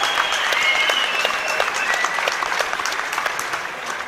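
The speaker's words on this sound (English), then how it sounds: "a nice big round of applause for Xolisa Magusha and Dee-jay" Crowd at a Dee-jay Kriel vs Xolisa Magusha boxing bout applauds steadily, a dense sustained clatter of clapping with a faint voice underneath, holding loud throughout.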